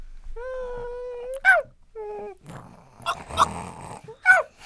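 Human voices mimic tiny baby puppy noises, with high whining yips and whimpers broken by short squeals and breathy pauses, close and fairly loud, in a festive Christmas radio setting.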